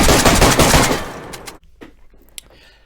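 Rapid automatic gunfire in DayZ, a dense loud burst of close shots for over a second that cuts off abruptly, followed by quiet with a few faint clicks.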